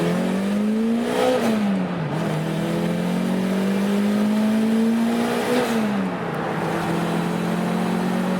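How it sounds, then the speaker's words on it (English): A Toyota MR2 Turbo accelerates hard on a back road, its engine note climbing steadily through the gears. Two brief dips mark the shifts before the pitch rises again, loud and close from inside the car, with no talk. "We'll go on this back road real quick and do a full send in third, all the way through the gears."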